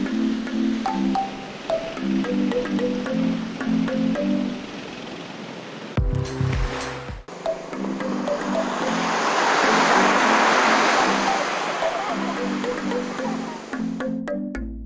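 Strong waves breaking on a rocky shore on Jomalig Island, a steady broad surf roar with wind buffeting the microphone, interrupted briefly midway by a louder handling thump.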